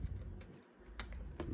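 Someone opens an underwater housing for an Insta360 X3 camera. Two or three faint, sharp plastic clicks sound close by against quiet handling noise, and no one speaks.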